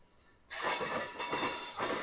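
A freight train hauling ethanol tankers and DDG cars passes on a Mason City line, a broad, steady rolling rush that swells in abruptly and holds with rhythmic wheel clatter, heard at moderate distance.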